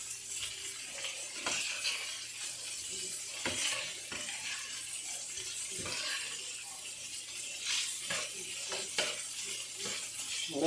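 Beef sausages frying and browning in a pan, a steady close sizzle with occasional soft scrapes and utensil clicks, with no talking.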